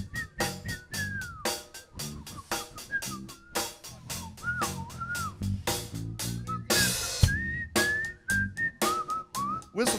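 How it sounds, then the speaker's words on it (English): A live band and audience whistle a melodic solo together at a concert, bright wavering whistled tones over punchy drums and bass, loud and rhythmic with no talking. "Come on, band, let's all whistle."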